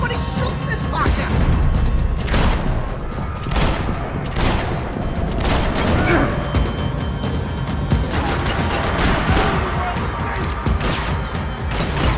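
A continuous, loud burst of gunfire in a Max Payne 3 shootout, with heavy overlapping shots and impacts sustained throughout amid combat noise.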